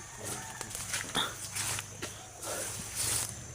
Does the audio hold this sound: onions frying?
no